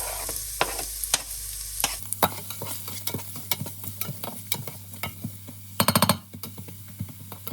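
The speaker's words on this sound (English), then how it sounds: "I will saute onion." Onion sautéing in a pan while being stirred, with a soft steady sizzle under repeated sharp scrapes and taps of the utensil, including a quick rattling burst near the end.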